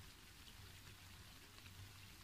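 Steady rain falling outdoors, a continuous even hiss of drops with a low rumble underneath, no voices.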